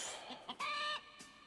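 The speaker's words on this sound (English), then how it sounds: "Oh, it's the chicken song." A chicken song in a toy-focused setting delivers short, bright clucking bursts, a few choppy cluck notes followed by a longer squawk-like tone, all close and fairly faint.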